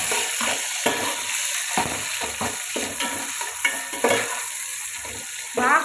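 Onions and green chillies sizzle and fry in a pan for a biryani-style chicken pulao, a steady hiss broken by scraping stirs and light clinks of a spoon against the pan.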